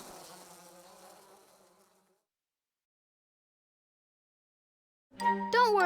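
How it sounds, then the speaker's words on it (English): Buzzing bees in the Disney's The Many Adventures of Winnie the Pooh read-along PC game, a droning buzz that fades away, then silence, then a louder swelling buzz at the end. "The bees quickly departed."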